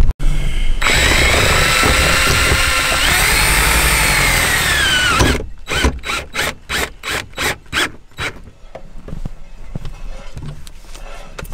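A power drill drives drill screws into the metal panel of a Mk4 Escort van, first a long continuous loud whine, then eight short rhythmic bursts as the screws are run in, close and with no talk.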